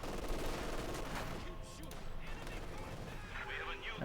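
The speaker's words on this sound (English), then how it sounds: "We get the regular barrage there." Artillery barrage in the World War II strategy game Company of Heroes 2, a dense mix of booming shell impacts and gunfire rattling through the battlefield, with a commentator speaking over it.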